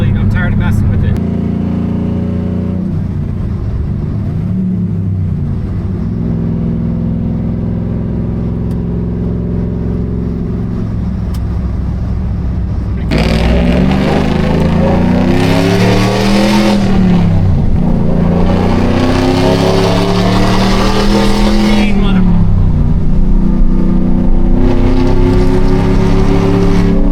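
A 1992 Chevy C1500 pickup with a swapped LS1 V8 idles nearby, a steady deep rumble that lifts into a rougher, busier note midway, with someone talking over the engine.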